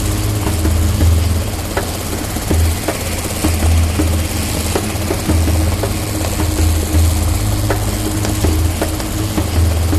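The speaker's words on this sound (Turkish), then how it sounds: "Aa şimdi de bir pırpır." A helicopter drones steadily and continuously with a low rumbling engine tone and a faint, rhythmic pulsing beat. It stays fairly loud throughout, with no voices over it.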